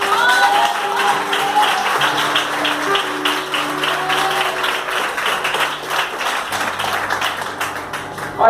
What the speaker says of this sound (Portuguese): Aplaudam ao Senhor.